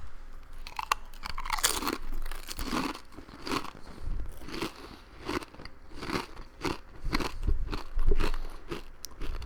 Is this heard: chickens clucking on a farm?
no